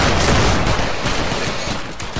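Line infantry fire a musket volley in Battle Grounds III, a loud, dense crackle of many shots at once that decays into a rumbling echo over about two seconds.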